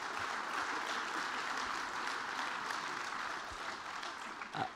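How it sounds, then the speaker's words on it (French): Applause from a studio audience, a steady, fairly faint wash of clapping that continues evenly throughout, with a small bump of noise near the end. "on peut les applaudir."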